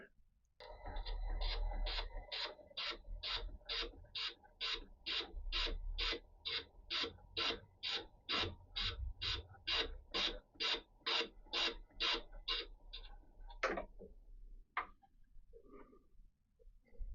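Hand filing to chamfer the inner edge of a workpiece for a radius turning tool, heard as a steady run of about twenty even rasping strokes close up, then a few slower, scattered strokes toward the end.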